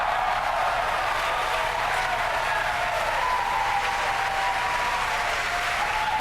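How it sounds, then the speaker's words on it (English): A crowd cheers and applauds at night during the SpaceX STP-2 launch, a continuous dense roar that holds steady throughout and sounds somewhat distant. "Over the cheering in the background."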